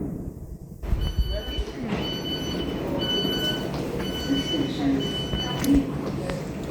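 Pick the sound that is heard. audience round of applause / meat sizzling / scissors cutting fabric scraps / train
train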